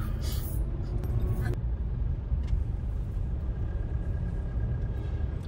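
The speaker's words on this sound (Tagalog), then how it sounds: "Super traffic," Steady low rumble of heavy road traffic along a city street in Sydney, Australia, on a grey, rainy day, with continuous vehicle drone filling the scene and a brief brighter hiss near the start.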